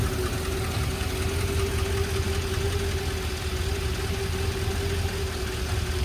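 A 1955 Chrysler New Yorker Town & Country wagon idles steadily inside a shop after a cold start, giving a continuous, even engine rumble with a faint knocking texture and no speech.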